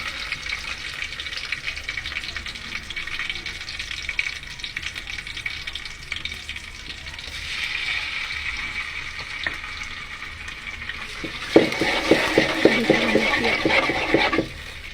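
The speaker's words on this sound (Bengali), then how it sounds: "দিয়ে দেওয়ার পর ভালো করে কষিয়ে নেব।" Dried fish and large potatoes sauté in a pan with a continuous hiss of frying, joined near the end by a burst of scraping stirring strokes, close and with no talk.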